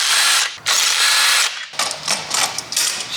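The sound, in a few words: power tool removing 12mm clutch bolts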